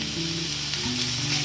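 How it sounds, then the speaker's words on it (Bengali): Spice paste with slit green chillies fries in a pan with a steady, close sizzle and light stirring scrapes, heard alone without voices through a short stretch. "এবার এটাকে আমি 2 মিনিটের জন্য ভালো করে নাড়াচাড়া করব।"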